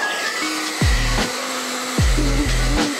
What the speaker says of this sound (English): Sometimes when you remove stickers, you might need to use a hairdryer to warm up the sticker to remove it.